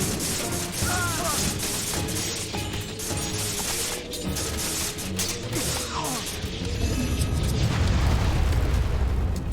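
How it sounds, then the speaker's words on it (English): An implosion god power in Age of Mythology unleashes a deep, rumbling roar with grinding, mechanical crackle that swells toward the end, dense and loud beneath other battle sounds. "Here comes the implosion."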